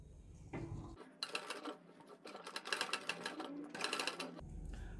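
A sewing machine stitches piping onto a kurti neckline, running in a steady rapid mechanical chatter for several seconds with brief pauses at the start and end.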